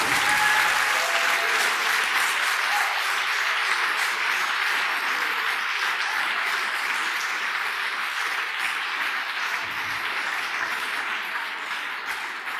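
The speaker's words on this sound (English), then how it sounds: "give yourselves a great big round of applause" A conference audience at a leadership exchange in Washington DC claps in a sustained, dense round of applause that stays loud throughout and tapers only slightly toward the end.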